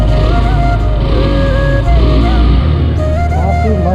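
A 2022 KTM RC 200 motorcycle engine runs steadily close by, a loud, constant low rumble with harmonic whine and a slight shift in pitch partway through.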